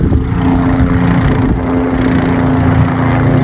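A helicopter passes overhead as a continuous loud, droning engine and rotor rumble with a steady low hum, filling the whole stretch with no talking.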